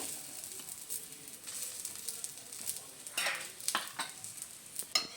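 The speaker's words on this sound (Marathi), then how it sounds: "वरून असं तूप सोडू, तेल पण सोडलं तर चांगलं लागते।" Ghee and oil drizzled onto a kada paratha on a hot pan set off a soft, steady sizzle, with a few sharper crackling bursts near the end; nobody speaks.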